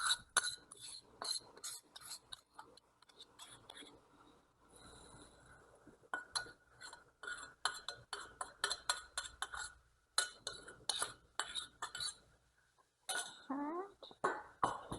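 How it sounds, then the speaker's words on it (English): Steel utensils clink and tap sharply against pots and dishes while hot tadka oil goes over fenugreek powder for Kerala inji ginger curry, the clatter coming in quick uneven bursts with brief pauses. "now our tatka oil goes on top of this fenugreek powder"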